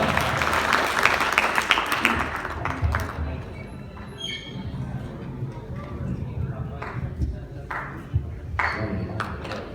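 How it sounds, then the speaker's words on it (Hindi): At a Pakistani cultural Eid Milan show, an audience claps for a singer, with loose, moderately loud applause in the opening seconds that fades into scattered claps and room noise, with some talk. "तो इनके लिए पुरजोर तालियां बजाएं प्लीज"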